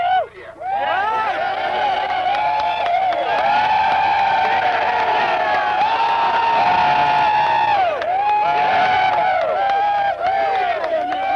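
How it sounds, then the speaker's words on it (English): A football stadium crowd at a 1994 Plymouth State College game roars and cheers after a 97-yard touchdown, loud sustained shouting and whooping that swells and surges in waves for the whole stretch. "Listen to this crowd."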